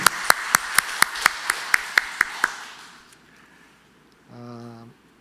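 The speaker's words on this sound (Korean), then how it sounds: "우리 성가대석에 있으면 우리 이동욱 권사님 함께 박수 주시기 바랍니다." A short burst of claps in a church service, about ten sharp, evenly spaced strikes over two and a half seconds, close and fairly loud, fading out, then a brief tonal chime or sustained note near the end.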